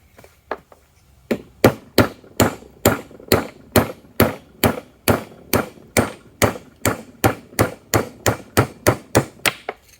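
Hammer blows driving a roll pin out of a Jeep TJ Dana 30 front axle differential, a long run of sharp metallic strikes in a quick, steady rhythm, loud and close, with a few lighter taps at the start.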